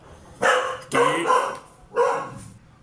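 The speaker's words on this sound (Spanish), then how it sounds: "la perrita estaba ladrando y fue que llegó un familiar mío" A small female dog gives three sharp, loud barks close by, two in quick succession and a third after a brief pause, against a quiet background.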